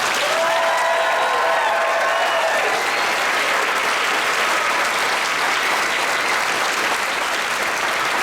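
An audience and a marching band at a concert cheer and applaud for the color guards, a sustained loud roar of clapping and crowd noise with whistles early on and faint voices mixed in.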